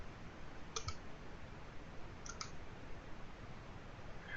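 A computer mouse clicks twice, about a second and a half apart, crisp and close over a faint steady hiss, with no speech.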